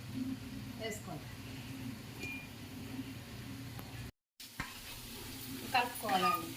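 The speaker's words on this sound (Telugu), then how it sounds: "ఇప్పుడు కారం వేసుకున్నాం కదా, కలిపేసుకోవాలి." A spoon stirs chili powder into an egg masala curry in a pan, with soft scraping strokes over a quiet sizzle and a brief clink near the end.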